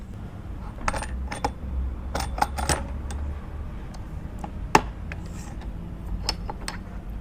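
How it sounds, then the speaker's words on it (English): Manual tile cutter scoring and snapping travertine tile: a series of sharp clicks, scrapes and cracks in irregular bursts, close up over a quiet background. "they can score and snap travertine, no problems"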